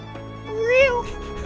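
A person imitates a cat with a single drawn-out vocal meow that rises and falls, set against a low background hum, with a little talk-like murmuring just after.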